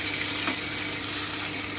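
Garlic and tomato fry in a pan with a continuous, even sizzle that holds steady and close throughout.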